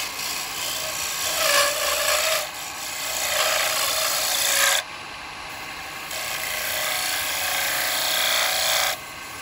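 A wood lathe spins a workpiece, shaped into a cowboy hat, while a spindle gouge cuts it, making raspy scraping bursts that come and go over a steady motor hum with a high whine.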